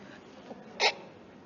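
A woman sneezes once, a brief, sharp burst over a quiet room, soft and slightly distant.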